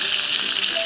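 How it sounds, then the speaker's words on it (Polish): Meat sizzles steadily in a hot frying pan as it browns on its second side, a dense, even crackle close by with no break. "I podsmażamy jeszcze z drugiej strony."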